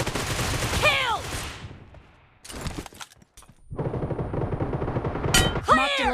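UMP45 submachine gun fire in the BGMI battle royale mobile game: loud rapid bursts with a short gap and near-silence in between, with game announcer voice callouts over the shooting.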